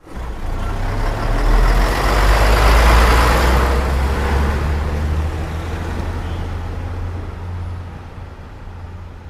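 An owner-operator's semi truck drives along the road near Carlisle, Pennsylvania. The loud, low engine rumble builds, holds steady, then eases off slightly, with no voices.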